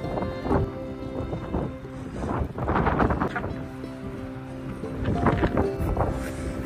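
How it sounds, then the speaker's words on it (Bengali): Strong, cold wind blowing across a snowy Swedish winter landscape, loud gusty buffeting that swells and fades in waves and roars against the microphone, with no voices. "অনেক বাতাস, দেখো।"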